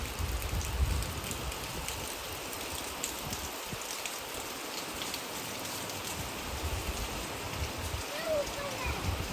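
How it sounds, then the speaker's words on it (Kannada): Steady, dense rain pours down, a constant hiss of drops striking surfaces nearby, with faint voices in the background. "ಮಳೆ ನೋಡಿ ಮಳೆ ಎಷ್ಟು ನೋಯ್ತಾ ಇದೆ ಅಂತ"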